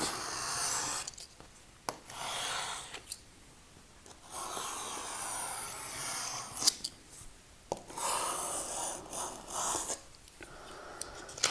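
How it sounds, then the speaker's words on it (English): Knife trimming a freshly squeegeed vinyl decal, with scratchy cutting and rubbing strokes in separate bursts, some rasping passes and brief quiet gaps, close and fairly soft. "take my knife, just trim that out"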